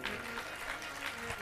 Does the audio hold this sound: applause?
yes